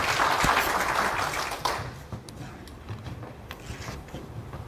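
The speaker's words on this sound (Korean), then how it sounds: "박수로 맞이해주시기 바랍니다." An audience at a live-streamed Korean community candidates' forum claps as the candidates are welcomed, a burst that fades after a couple of seconds into scattered, thinning claps.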